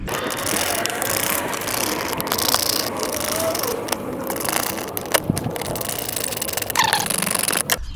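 Phillips screws on the air filter housing of a 2010 Audi A3 1.6 TDI are undone with a ratcheting screwdriver, giving continuous close clicking and mechanical ratchet rattle with a few louder snaps.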